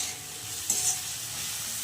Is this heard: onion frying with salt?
yes